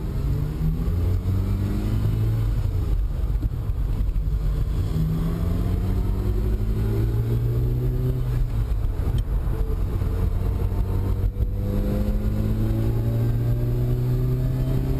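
Ferrari 308 GTB driven hard on a race track, heard from inside the cabin: loud engine revving through repeated rising pitch sweeps as it accelerates and shifts, with wind and road roar throughout.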